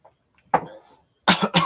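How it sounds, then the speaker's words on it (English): A couple of sharp, harsh coughs close to the mic, the second burst following quickly after the first, with near silence beforehand. "Coughing, that's a way to start."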